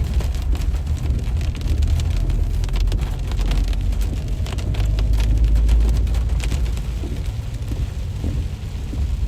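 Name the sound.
heavy rain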